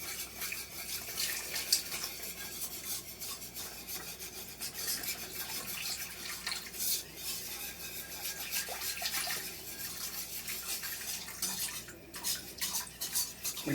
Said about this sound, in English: You'll see some of the stuff is sticking to the bottom. We want to scrape that up.